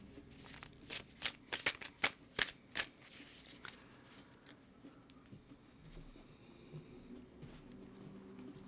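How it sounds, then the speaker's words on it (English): A deck of tarot cards being shuffled up close: a quick run of crisp riffling flicks and slaps over about three seconds, then quiet handling. "I'm going to go ahead and shuffle the cards for you"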